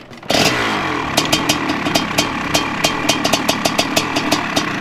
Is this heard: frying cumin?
no